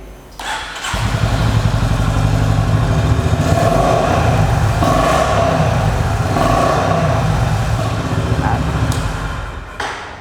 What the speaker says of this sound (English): I'll turn on the motorcycle once.